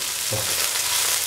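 Chicken masala frying in a pan with onions, cinnamon leaves and green chili, a steady close broadband sizzle with a brief stir near the start, no voices.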